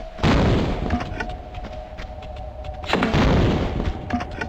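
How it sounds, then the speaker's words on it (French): Two heavy booming blasts from a grenade launcher in Tomb Raider 2 as a giant spider is blown apart, the first near the start and a second about three seconds later, each loud and followed by a rumbling tail. "Voilà, elle a explosé."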